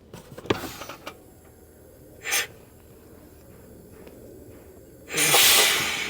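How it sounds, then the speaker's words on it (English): Air hisses from a leaky brake chamber on a car in a garage, a brief burst near the middle and a louder, sustained hiss at the end, with scattered clunks and rustles between. "We've got a leaky brake chamber, which we noticed at the last meeting."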